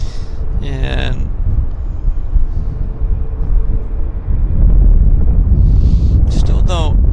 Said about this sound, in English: Another Max taxiing.